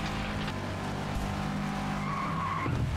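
A car drifting and skidding in the racing game FlatOut Ultimate Carnage, with sustained loud tire squeal over a steady engine roar that holds throughout, a higher screech rising near the end.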